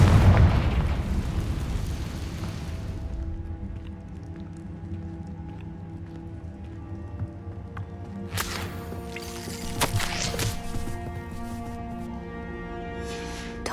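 A Confringo spell explodes in a video game with a loud, booming blast right at the start that decays into a long rumbling tail. A few sharper crackles and pops follow later over a low ambient drone.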